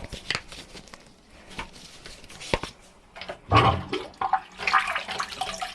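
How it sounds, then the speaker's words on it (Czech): A toilet tank is flushed, giving bursts of rushing, splashing water that swell and fade in uneven surges, close by and fairly loud, with no speech. "já musím spláchnout nádržku"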